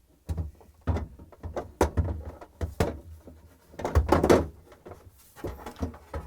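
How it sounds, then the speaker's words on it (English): Refrigerator drawer being slid back onto its rails and pushed into place after a GE defrost heater repair, a series of close sliding scrapes, knocks and thunks spread across several seconds. "And we're going to install the drawer back in."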